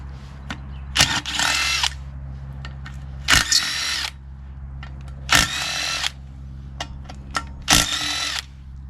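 A DeWalt power tool removing the sump bolts from a blown Briggs & Stratton 6.75 Craftsman Quantum engine, four loud whirring bursts of about a second each, separated by quiet pauses and small clicks.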